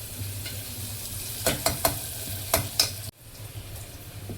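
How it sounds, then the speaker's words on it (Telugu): Mutton curry frying and being stirred in a pan until browned, with a steady soft sizzle broken by several sharp scraping stirs and clinks, then a brief drop before the sizzle resumes, with no talking. "బాగా వేగాలి, బ్రౌన్ కలర్ వచ్చేదాకా."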